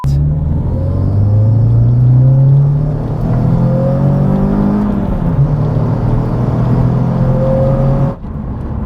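A Renault Clio 182 accelerates hard from inside the cabin, its engine droning loud and rising in pitch through the gears with a brief dip at a shift midway, then lifting off near the end.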